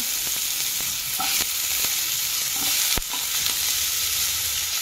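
Papaya, potatoes, carrots and beans fry in a pan with a constant loud sizzle, broken by occasional soft stirring knocks and one sharp clack near the middle.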